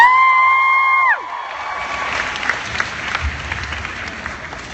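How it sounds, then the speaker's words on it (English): An audience at a fan convention panel breaks into applause and cheering right after a sustained tone stops, the clapping dense and fairly close, with scattered whoops through it. "thank you for cheering for them"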